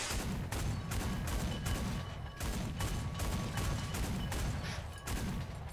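Rapid volleys of gunfire in the video game War Thunder crackle almost nonstop, loud, dense bursts with a few brief pauses between strings of shots.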